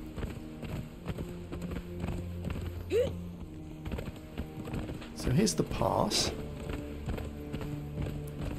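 Horse hooves clatter in a steady galloping rhythm while riding through Sandscow Pass in the Conan Exiles video game, close and continuous beneath a voice, with game music and ambient effects layered in.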